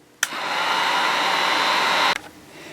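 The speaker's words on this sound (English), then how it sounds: "I'm using this heat gun to dry it a little bit quicker" Heat gun drying latex on a handmade sea monster puppet, a steady close whooshing blower roar that switches on with a click and cuts off about two seconds later.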